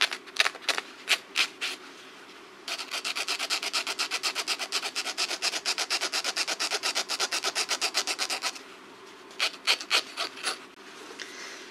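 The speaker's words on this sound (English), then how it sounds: "Or you can even use the knife, which is a bit easier than the sandpaper." A knife scrapes across denim fabric to distress it, close rhythmic rasping strokes: a few separate scrapes, then a long fast steady run of repeated strokes, then a few more spaced scrapes, with no talking.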